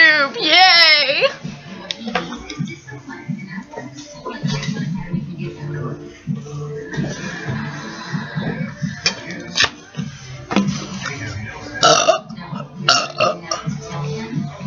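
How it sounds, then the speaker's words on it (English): A loud, long self-made burp from a young person at close range, rising and wavering, then followed by chatter and giggling with further small vocal noises. "I think that I'm gonna try to make a massive burp"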